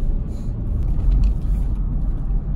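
Honda Pilot SUV engine and road noise heard from inside the cabin while driving, a steady loud low rumble with no talking.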